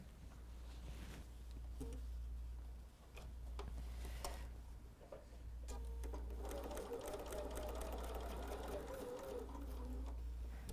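A quiet sewing machine hums steadily, stitching quilt squares, with a low motor drone throughout, light ticking, and faint chirping in the background.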